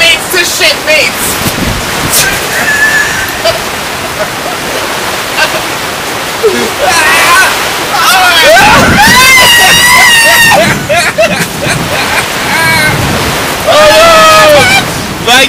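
Heavy rain and gusting wind roar at a campsite during a thunderstorm, a loud, steady wash of noise. People shout and call out over the storm at intervals.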